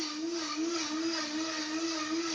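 Vitamix blender churning almonds into almond butter, a steady high whirring motor drone that holds a constant tone throughout, with no talk over it.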